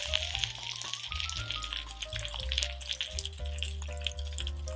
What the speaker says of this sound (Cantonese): 我每面咧就會煎佢4分鐘